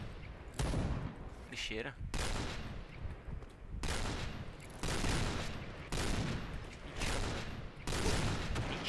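Repeated bursts of gunfire from the Point Blank shooter game come in several loud volleys spaced across the stretch, with someone speaking briefly between the shots.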